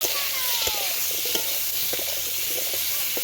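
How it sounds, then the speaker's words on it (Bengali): Potatoes fry in oil left over from frying eggplant, giving a steady loud sizzle and hiss with occasional stirring clicks and pops, close up and continuous. "এই বেগুন ভাজার তেলে আমরা এখন আলুগুলোকে ভালো করে ভেজে নেবো।"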